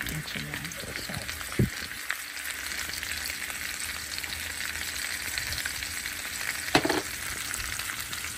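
Chicken afritada, a Filipino dish, cooking in a pan: a continuous soft sizzle and frying hiss with a couple of sharp utensil clinks and stirring sounds, close up, with a person speaking now and then.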